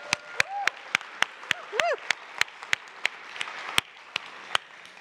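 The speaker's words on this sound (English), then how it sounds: "She's not going to stop until we clap" Scattered, sparse clapping from a small audience at a children's concert, sharp individual claps in an irregular rhythm over a quiet background, mixed with brief children's voices and squeals.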